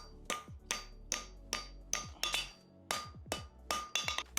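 A farrier hammers a plain stamped front horseshoe on an anvil, packing the heel back. Eleven or so sharp ringing metal strikes land in an irregular rhythm, some in quick pairs, close and loud with no talk.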